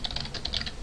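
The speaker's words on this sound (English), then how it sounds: "So I'm going to go ahead and type import" Java code typed on a computer keyboard, a quick close burst of clicking keystrokes in a rapid, slightly uneven rhythm.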